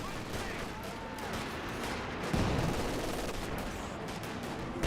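Infantry gunfire from Pathfinder paratroopers in the real-time strategy game Company of Heroes 2, steady crackling rifle and machine-gun shots throughout, with a louder heavy burst midway, all mixed into dense battle noise.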